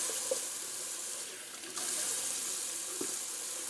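Cold water pours steadily from a sink tap into the basin in a continuous hiss and splash. It stays close and even, with a few faint knocks, and no one talks.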